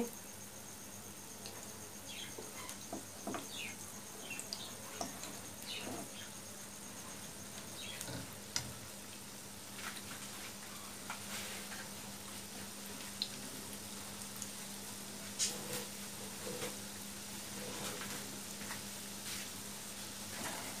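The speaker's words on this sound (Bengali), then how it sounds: "আস্তে আস্তে আমরা এই শ্যালো ফ্রাই হতে দিব মিডিয়াম আছে" Potato and egg kebabs shallow frying in a pan over medium heat, giving a faint, steady sizzle with scattered soft pops and crackles throughout, no voices.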